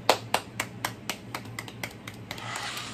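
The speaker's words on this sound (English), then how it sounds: "Clap it up for my baby." A few people clapping indoors, about a dozen sharp, fairly even claps that gradually soften and scatter, then give way to faint room noise with a low steady hum underneath.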